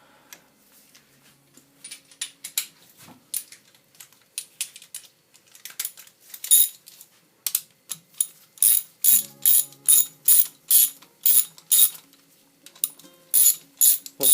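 Ratchet loosening cylinder head bolts on a Honda VF750F motorcycle engine: sparse clicks at first, then bursts of rapid metallic clicking in repeated strokes, close and crisp, no talk.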